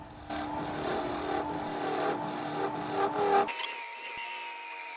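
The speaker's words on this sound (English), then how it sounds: "I can go ahead and rough in the shape of the outside of the bowl." A spalted sweetgum bowl blank spins on a wood lathe outdoors while a tool roughs the outside, making a loud continuous scraping rasp with regular rhythmic thumps, then easing to a quieter hum.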